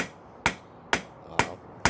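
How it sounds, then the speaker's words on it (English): A small Nordic Forge rounding hammer strikes metal four times in an even, steady rhythm, each blow a sharp, ringing clang close by with brief decay and no talk. "I'm changing to a little Nordic Forge"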